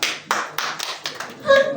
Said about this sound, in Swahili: Nipigie makofi. Nipigie makofi.